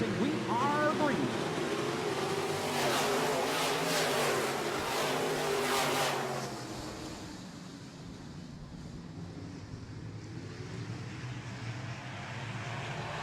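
Castrol Midwest Modified race cars roar off at the green flag, a loud, dense wall of engine noise with rising revving tones that drops to a lower, more distant rumble after about six seconds, with an announcer talking over it.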